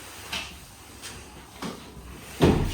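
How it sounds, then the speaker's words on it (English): Pull-out kitchen cabinet unit in a newly renovated kitchen sliding in and out, giving a few quiet, separate thumps and bumps, with the last one the loudest, and no talking. "fancy unit that comes in and out."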